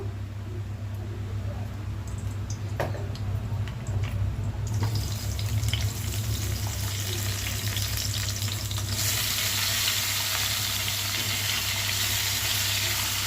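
Oil poured into a hot pan for cooking curry sizzles and crackles, starting quieter and then rising into a loud, steady hiss of frying over a low background hum.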